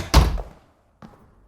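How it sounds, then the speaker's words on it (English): A door shuts in a video game with a heavy, close thunk, then a quieter second knock about a second later before silence. "Shut the door."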